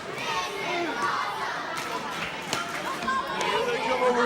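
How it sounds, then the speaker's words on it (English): A crowd at a wrestling event chants and cheers in a busy, reverberant hall, with a steady wash of many voices and scattered shouts throughout. "Listen to this chant go."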